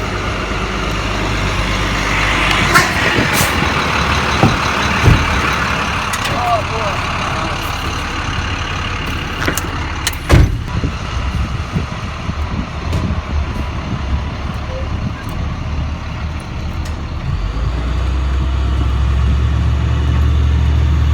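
A tow truck's engine rumbles steadily at close range while it tows a Jeep, with cab and road noise and occasional knocks throughout.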